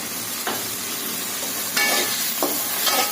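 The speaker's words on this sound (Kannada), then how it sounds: "ನಾವು ಒಂದು ಸ್ವಲ್ಪ ಎಣ್ಣೆ ಹಾಕೋತೀನಿ ಎಣ್ಣೆ ಹಾಕ್ತೇವೆ" A little oil going into a hot pan for a spicy home-cooked side dish, a continuous sizzle with a few short bursts of crackling and stirring, close by, no talking.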